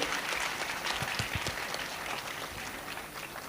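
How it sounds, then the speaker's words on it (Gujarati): At a community event in Jamnagar, a crowd claps steadily throughout to welcome a guest, dense and fairly loud, with a few sharper claps standing out early on. "એમને આપણે જોરદાર તાળીઓથી વધાવીએ એમનું સ્વાગત કરીએ"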